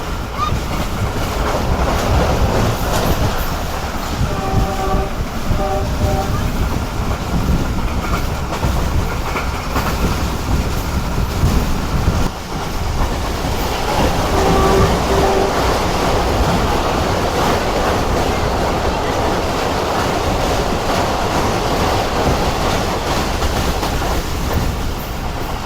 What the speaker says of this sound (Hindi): तो कुछ इस तरह की स्पीड में ट्रेन हमारी आगे बढ़ रही है